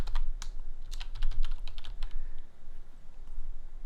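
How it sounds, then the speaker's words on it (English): Someone types on a computer keyboard while setting up a stock-tracking workspace, tapping quick, irregular bursts of crisp clicks close by with short pauses between runs, and no talking. "start typing in that other one"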